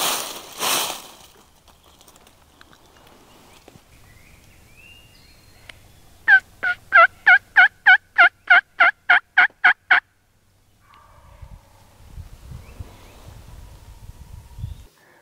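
A henned-up wild turkey tom gobbles in spring timber, one clear rapid rattling burst of about a dozen pulses at moderate distance, with rustling and quiet gaps around it.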